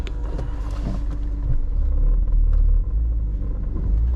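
A BMW E36 M3 engine idles with a steady low rumble, swelling slightly as the car is backed up, heard close with no talking.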